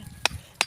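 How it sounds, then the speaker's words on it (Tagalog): Two sharp hammer blows strike timber at a home construction site in the Philippines, spaced about a third of a second apart, close and distinct over a quiet background. "Dali, pinupukpok na."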